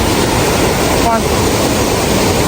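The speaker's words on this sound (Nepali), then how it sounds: "This is a small waterfall." A small mountain waterfall in Langtang pours in a steady, unbroken rush of white water that holds even and fairly loud throughout, with no other distinct sounds standing out.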